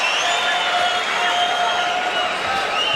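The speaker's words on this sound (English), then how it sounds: "And the crowd reacts" An arena crowd at an MMA fight roars in a dense, sustained wash of cheering and shouting, loud and unbroken throughout.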